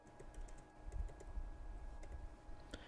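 Code being typed on a computer keyboard: a steady run of quick, light key clicks at close range with a low background hum, no voices.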